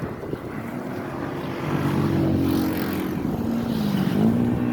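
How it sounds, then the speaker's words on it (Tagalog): A vehicle engine struggling as it runs out of gasoline on a highway, a steady low drone that rises and dips unevenly in pitch and strength, close and continuous, with no voices. "Malaman mo walang gasolina kasi nga dahan-dahan humahagok eh."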